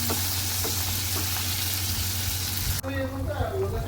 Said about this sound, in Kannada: ನಾನಿಲ್ಲಿ ಅಡುಗೆ ಮಾಡ್ಕೊತಾ ಇದ್ದೀನಿ ಸ್ವಲ್ಪ ಏಡಿನ ಸುಕ್ಕ ಮಾಡ್ಕೊತಾ ಇದ್ದೀನಿ